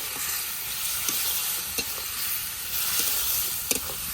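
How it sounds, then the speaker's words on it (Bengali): Dried fish (shutki) sizzles and fries in a spiced masala paste, with a continuous close hiss and occasional scraping knocks of a spoon stirring the pan. "মশলার মাঝে শুটকিটা একটু ভালো করে কষিয়ে নিই।"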